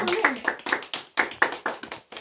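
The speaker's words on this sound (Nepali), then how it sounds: "खोयाउलु ताली मारेको हौ" A few people clapping at a family birthday celebration for a mother, quick close hand claps in an uneven rhythm, roughly a dozen strikes over about two seconds.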